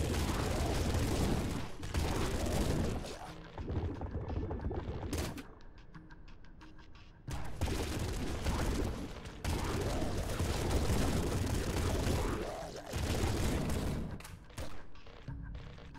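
Dense gunfire in Nuclear Throne Ultra Mod, with corpse explosions, fires in rapid bursts, loud and continuous, broken by short pauses and heavy booming impacts.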